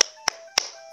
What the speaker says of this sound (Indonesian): tepuk Yesus dulu dong adik-adik